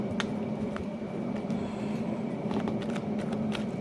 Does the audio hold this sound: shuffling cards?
yes